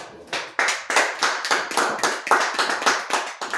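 A church congregation claps in unison to praise the Lord, a loud, even run of about a dozen rhythmic handclaps with no speech.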